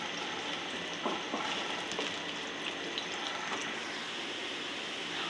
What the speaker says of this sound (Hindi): प्याज को ब्राउन होने तक पका लूँगी।